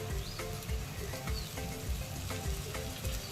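Eggplant bharit (mashed brinjal) frying in oil with coriander, a steady close sizzle and crackle with faint stirring, no talking.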